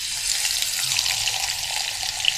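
Fish fries in hot oil for a Lahori fish fry, giving a loud, steady, close sizzle that hisses on without pause.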